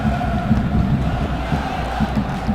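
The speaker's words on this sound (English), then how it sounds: "Big crowd gathered" A big stadium crowd roars before a football match between Chicago Fire and Montreal Impact, a loud, steady wash of cheering and shouting with occasional louder swells.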